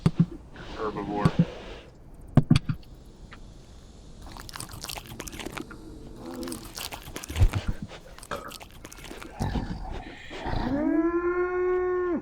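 A cow in the CHKN creature-building game gives a clear, rising moo near the end, after a stretch of chewing and crunching sounds and clicks, with someone talking over parts of it.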